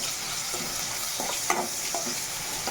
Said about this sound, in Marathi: याच्यामध्ये लसूण जिरं ठेचलेलं फ्राय करते.